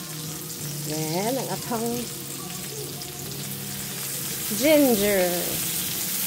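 Leftover fish simmers with onion and ginger in coconut milk in a pan, giving a steady sizzle and bubbling as it is stirred, while someone speaks briefly over it.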